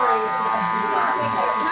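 Electric hair clippers fitted with a zero guard buzz steadily and close up while trimming the thick hairline at the nape of a man's neck during a classic comb-over haircut, with a voice talking over the hum.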